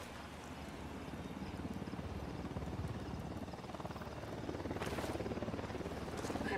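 Helicopter in the Ghost Recon Wildlands video game, a steady rhythmic rotor chop that holds throughout and grows slightly louder near the end, with no talk over it.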